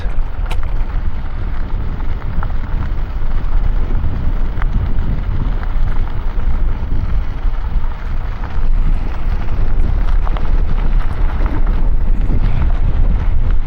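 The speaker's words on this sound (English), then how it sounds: "It's very windy" Strong headwind buffets the microphone of a cyclist on a trail in a steady, heavy roar that continues without a break throughout.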